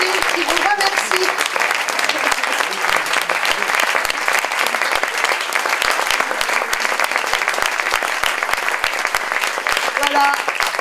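A theatre audience gives sustained, loud applause to performers taking their bows, many hands clapping steadily throughout with a faint voice heard briefly early on.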